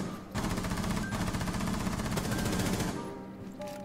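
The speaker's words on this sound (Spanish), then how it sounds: "Mucho disparito." Rapid automatic gunfire in Rainbow Six Siege, a dense sustained burst of shots lasting a few seconds, then cutting off, with no talk.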